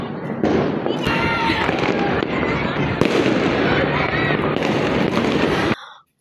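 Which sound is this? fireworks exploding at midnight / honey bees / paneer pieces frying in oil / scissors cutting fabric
fireworks exploding at midnight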